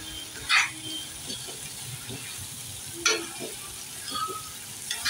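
Cluster beans, potato and boiled peanuts stir-fried in a pan, giving a soft, quiet sizzle with a few brief scraping stirs and light clinks spread across the stretch, with no talking.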